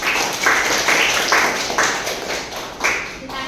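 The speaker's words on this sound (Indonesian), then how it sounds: "tepuk tangan untuk kita semua" An online class or meeting audience claps at the close of a teaching session, heard as loud bursts of rhythmic clapping in several separate rounds rather than one continuous wash, fairly close, with no talking.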